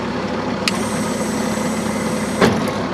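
A Bobcat 773 skid steer loader's engine runs at a steady idle, a continuous low diesel rumble with a faint high whine, and a couple of brief clanks as the loader moves.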